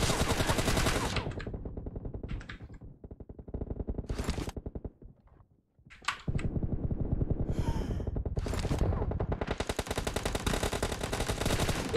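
Rapid automatic gunfire from a shooting video game comes in dense bursts separated by short pauses, loud and close, with a brief lull in the middle before the firing resumes heavily.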